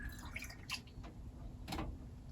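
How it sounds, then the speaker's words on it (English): Small carburettor parts from a Ford Fiesta 1.1 float chamber go into a basin of water, giving a few faint splashes and drips in a quiet room. "Plunge that into the water."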